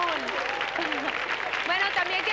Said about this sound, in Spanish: Un aplauso para el equipo azul